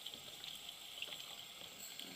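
Faint, steady water running from a tap while a paintbrush is wetted for washing, a soft continuous hiss with no speech.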